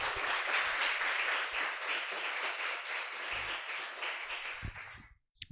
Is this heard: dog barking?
no